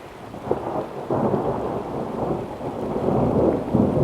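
Thunder rumbles through a storm as rain falls steadily outdoors among large granite boulders, the deep rolling booms swelling and fading over a constant wash of rain with no talking.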